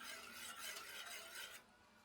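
Hot and sour soup sauce of ketchup, chili garlic sauce, vinegar and soy sauce being stirred in a pot, a faint continuous scraping swish that fades toward the end, with no talking.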